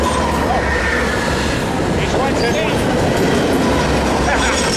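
Locomotive 7059 rolls past up close on a light power move near Cajon or Fullerton, a loud continuous rumble with wheel clatter and some squeal on the rails, while a person exclaims excitedly over it.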